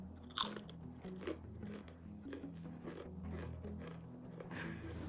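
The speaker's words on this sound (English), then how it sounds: "Listen to all the munching and crunching for at least 60 seconds." Someone munches a fruit and cereal snack mix, with quiet, close crunches and bites repeating irregularly throughout.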